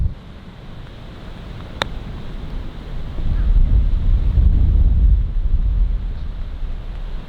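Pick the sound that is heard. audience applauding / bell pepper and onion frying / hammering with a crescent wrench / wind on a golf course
wind on a golf course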